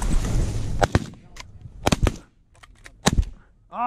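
Shotgun fire during a hilltop goose hunt in New York: a few sharp, close bangs spaced roughly a second apart, with rustling and outdoor noise between them.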